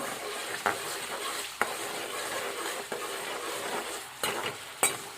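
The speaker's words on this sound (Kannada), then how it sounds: "ಇದಕ್ಕೆ ಇವಾಗ ಎಣ್ಣೆ ಒಂದು ಸ್ವಲ್ಪ ಫ್ರೈ ಮಾಡ್ಕೊತೀನಿ ರೀ" Chopped tomatoes fry in oil with a soft, steady sizzle, broken by several sharp spatula knocks and scrapes against the pan at uneven intervals; fairly quiet overall, no talking.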